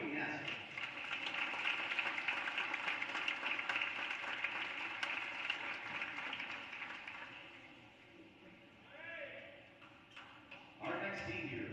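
Crowd applause at a high school boys basketball senior night, Boyertown vs Norristown, a steady broad roar of clapping that holds for most of the clip before thinning out, with voices rising above it near the end.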